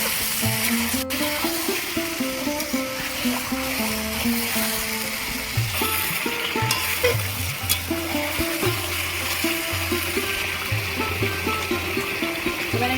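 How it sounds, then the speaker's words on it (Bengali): Chicken pieces frying in hot oil in a pan for a Bengali-style chicken curry, a steady close sizzle with light stirring and scraping, alone without talk. "তেলের মধ্যে দিয়েছি ভেজে নিচ্ছি"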